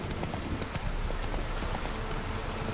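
The horse Roach gallops in The Witcher 3, a steady, fast clip-clop of hooves over a dense, noisy bed of ambient sound and no talking.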